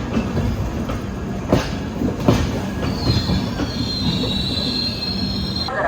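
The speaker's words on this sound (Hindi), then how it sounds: "अजमेर बांद्रा एक्सप्रेस इसको ओवरटेक करके आगे आई है।" The Ajmer Bandra Express overtakes at speed, its loud steady rumble joined by a sharp high wheel squeal partway through and a few clacks over the rails.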